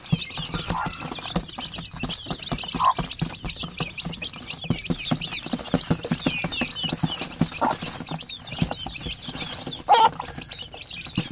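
Chickens and chicks kept at home cluck and cheep continuously, with dense chirping throughout and occasional louder clucks standing out.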